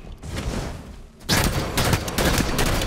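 Light rifle firing in Halo 5: Guardians during a Big Team Capture the Flag match on Altar: a quieter stretch gives way to a loud, dense run of repeated sharp shots that keeps going to the end.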